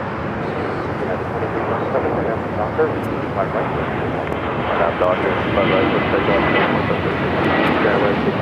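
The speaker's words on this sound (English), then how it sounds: "flight 22 coming up from Paris at 777-300ER" Boeing 777-300ER jet arriving from Paris at Los Angeles airport, a steady broadband roar of engines holding loud and close throughout, with a voice speaking over it.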